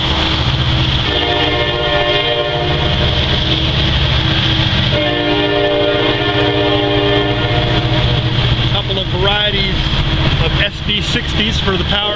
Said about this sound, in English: Gonna get a nice video of this grain train.